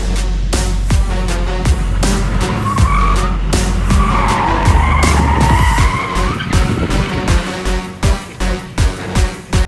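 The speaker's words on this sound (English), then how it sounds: "Can definitely do better donuts than my 328i. At least it slides out easier." BMW 330e hybrid sedan doing donuts, its tires skidding and squealing continuously under a revving engine, close and loud, ending in rhythmic pulses of tire noise as the car slides around.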